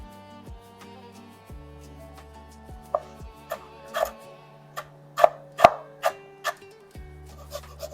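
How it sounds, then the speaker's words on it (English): A knife chops lemongrass and galangal into fine strips on a board, giving a few irregular, fairly close taps over a steady musical backdrop. "We're going to make our lemongrass into fine strips so it releases quickly."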